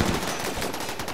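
Rapid gunfire in the RimWorld video game, a short dense burst of shots against a centipede, loud and continuous for about a second.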